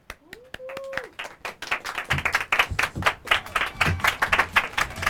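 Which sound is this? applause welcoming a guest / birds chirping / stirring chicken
applause welcoming a guest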